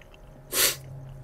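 A single short sniffle, one quick nasal snort of breath at moderate volume, standing alone against a low steady background hum.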